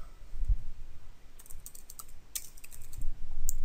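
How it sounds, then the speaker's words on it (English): Keys on a computer keyboard click in a sparse, uneven run of light taps, close and fairly quiet over a faint background hiss. "I suppose I should show off that I can use the keyboard."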